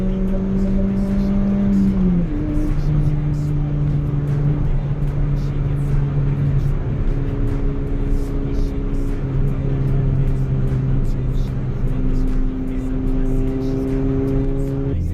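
A Suzuki Swift Sport's engine pulls hard in steady acceleration, rising from mid revs up to about 7000 rpm and dropping briefly at each gear change, loud and continuous throughout the run.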